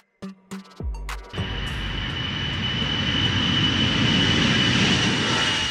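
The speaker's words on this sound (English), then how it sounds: "a rugged Russian cargo plane, it can take off from icy, muddy, or unpaved runways and keep flying strong" Engines of an Ilyushin Il-76 Russian cargo plane, rising to a loud, steady roar with a sustained high whine after a few short knocks at the start.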